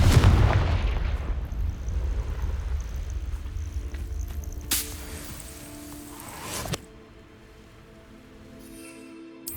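A Confringo fire spell exploding in the Hogwarts Legacy video game, a heavy low boom at the start that rumbles and fades, followed by sharper bursts and a hissing whoosh around the middle, then quieter game ambience.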